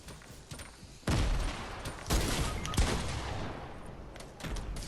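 Gunfire rings out in the battle royale game Fortnite, several loud sharp cracks hitting in quick succession over a busy background of game sounds.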